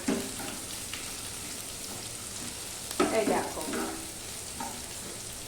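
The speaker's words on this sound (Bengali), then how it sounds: "এবার এই যে পেঁয়াজটা ভাজা হচ্ছে" Onion fries quietly in a pan with a soft, even sizzle and a few brief stirring scrapes. A voice speaks briefly over the low hiss.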